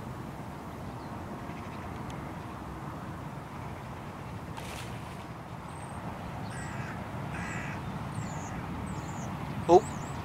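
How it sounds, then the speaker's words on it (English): Several harsh caws from a hooded crow carry from a distance over a low, steady background hum, with one louder call near the end. "sounds like the hooded crows are back"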